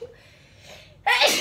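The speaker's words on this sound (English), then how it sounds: "I have to sneeze." A single loud sneeze bursts out near the end, preceded by a brief quiet breathy intake.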